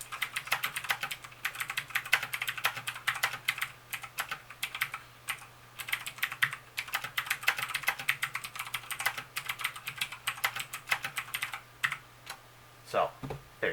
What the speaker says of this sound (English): So, I'm just going to quickly type something up here